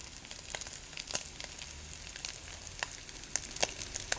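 Minced meat sizzles in hot oil with onions in a pan for Azerbaijani khangal, giving a steady crackle broken by sharp spitting pops, close and fairly loud, with no voices.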